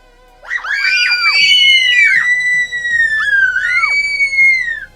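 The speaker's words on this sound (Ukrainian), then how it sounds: "Дівчата гучно закричали і побігли до виходу." Girls scream loudly as a sound effect in a spooky audiobook, several high shrill overlapping screams rising and falling together for about four seconds, close and intense with no talking.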